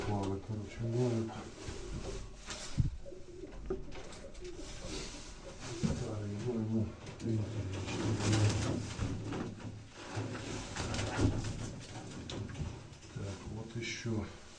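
Black pigeons coo softly in a loft, low throaty calls recurring in the background beneath someone talking close by.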